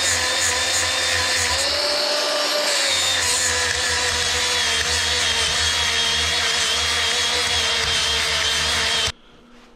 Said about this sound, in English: So I'm gonna hit this with the sander quick